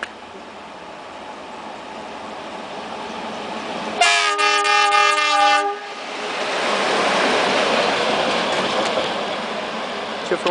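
Sulzer 2100 diesel locomotive of Cargo Trans Vagon passing at Buftea, Romania, giving one loud, steady horn blast lasting about two seconds amid rumbling engine and rolling wheel noise, with no talk.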